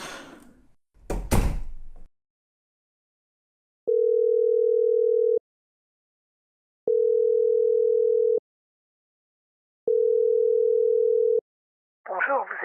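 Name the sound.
telephone dial tone while calling a mobile phone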